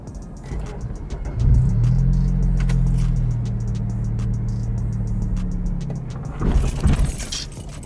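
A manual Honda Civic Si engine revs up as a learner works the clutch, a close rising drone that holds and wavers for several seconds before dropping, with clunks and rattles around it and no talk.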